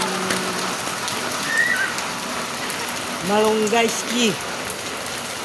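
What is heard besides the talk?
rain falling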